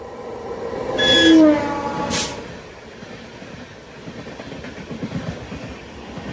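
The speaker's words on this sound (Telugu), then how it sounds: "క్రాస్ ఓవర్ వ్యాప్ 7 లోకోమోటివ్ తో ఒక బండి వచ్చేస్తుంది" A WAP-7 electric locomotive hauling an intercity train arrives at a station over a crossover, sounding a loud horn blast followed by a shorter second toot, then a steady low rumble of rolling wagons.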